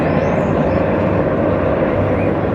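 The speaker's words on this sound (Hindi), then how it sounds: "आज भी देखो भाई हेलीकॉप्टर आ गया, आज लाल कलर का है।" A red helicopter flying over a mountain village, heard as a steady, loud broadband rotor and engine roar that holds constant throughout, with no talk.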